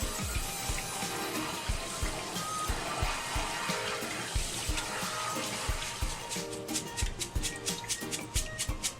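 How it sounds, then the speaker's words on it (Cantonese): Dried herbal ingredients and mung beans are rinsed under running tap water, with a continuous splashing stream and light clatter. The flow breaks into rapid pulsing spurts near the end. "但係都要揾水沖一沖嘅，連埋啲綠豆一齊揾水沖啦"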